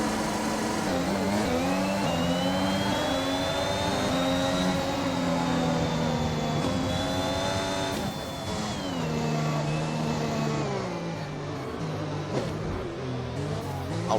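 Many race car engines rev together on the grid at the start of a Bahrain Grand Prix in a racing video game, a loud sustained multi-engine drone whose pitch climbs slowly, holds high, then dips and settles around the midpoint.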